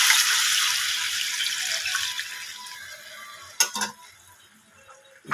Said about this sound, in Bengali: এবার জল ঢেলে দেবো, জল ঢেলে দিচ্ছি।